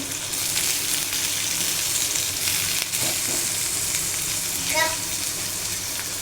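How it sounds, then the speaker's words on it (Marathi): Onion frying in a pan for Maharashtrian amti and potato bhaji, a steady close sizzle running throughout with a few faint stirring scrapes near the end. "कांदा परतोय त्याच्यातच मी हळद टाकते"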